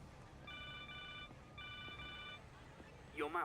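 A phone rings in the Spider-Man video game with two bursts of electronic trilling tones. The ringing sits over quiet game ambience, and a voice comes in briefly at the end.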